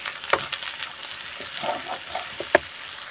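Onions and chillies frying in oil in a pan for a pangas fish and eggplant curry, a moderate steady sizzle broken by stirring scrapes and two sharp utensil clacks.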